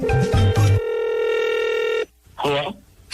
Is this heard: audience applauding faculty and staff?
no